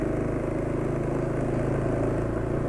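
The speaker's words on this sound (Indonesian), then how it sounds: "kalau dipakai malam-malam suara mesin halus ya" A motorcycle engine runs smoothly on freshly changed Shell Advance Power 15W50 oil, giving a steady, soft, even rumble at moderate distance, fairly quiet and unbroken, with no voices.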